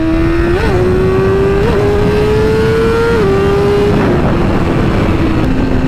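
A motorcycle engine roars at high speed in a loud, sustained drone, its pitch dipping briefly at several gear shifts, with constant rushing noise underneath.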